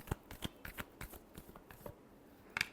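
Tarot cards are shuffled up close in a quick run of soft, crisp riffles and taps. The card sounds are fairly quiet and come alone, with no voices.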